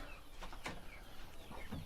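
Brahma chickens in their coop give a few soft, scattered clucks and chirps over a steady background hiss, with one or two brief louder calls.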